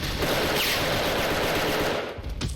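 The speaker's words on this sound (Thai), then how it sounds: "การริวยิงโคตรแรงเลยครับ" Sustained full-auto fire from a scoped Galil rifle in the video game Special Force, a dense, loud, unbroken rattle of shots with a brief dip near the end.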